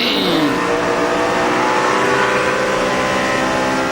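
NASCAR Sprint Cup cars racing flat out at Michigan at over 300 km/h, a loud continuous roar of engines sweeping past with rising and falling whine, dense and close with no pauses.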